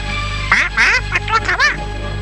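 A cartoon pet bird squawks in a quick series of loud, close, warbling bursts over a low steady hum.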